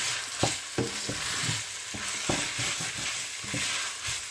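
Carrots and potato being stirred in a frying pan for a Nigerian meat pie filling, with a steady sizzle under repeated scraping and clattering strokes of the spoon against the pan, no talking.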